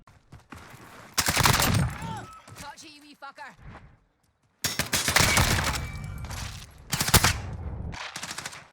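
Bursts of CR56 automatic rifle fire in a shooter video game, loud rapid volleys broken by short pauses, with a brief quiet gap partway through and a second long burst after it.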